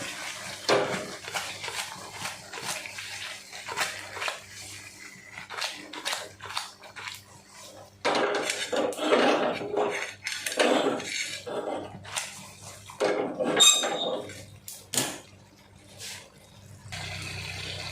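Ingredients in a pot of fish curry made with small native fish are stirred and tossed, giving close, irregular wet scraping and sloshing strokes with clinks of utensil against the pot. No one speaks.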